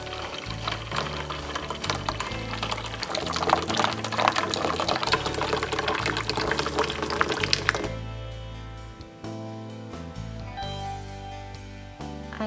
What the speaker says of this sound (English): in the soup bowl, add kombu dashi powder and kaeshi, then pour the hot water